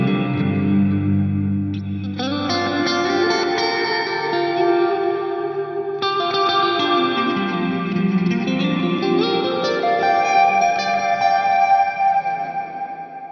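Guitar played through the Glitz reverb on a Line 6 POD Go with 40 milliseconds of pre-delay, sustained chords blooming into a lush, shimmering wash that rings out continuously, alone and up close.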